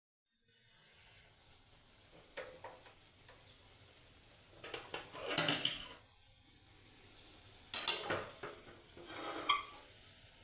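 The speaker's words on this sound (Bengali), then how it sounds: "চলো ঝপঝপ করে করে ফেলি বড়াগুলো" Bora fritters fry in a pan, a soft continuous sizzle beneath intermittent scraping and stirring strokes from a utensil, with a few louder clattering bursts against the pan, close and without talk.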